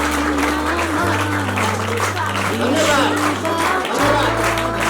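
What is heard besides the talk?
people clapping hands at a village event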